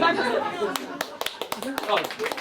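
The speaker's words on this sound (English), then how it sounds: "Give yourselves a round of applause." A small group claps at a campfire singalong in the Smoky Mountains, scattered sharp hand claps mixed with a speaking voice close by.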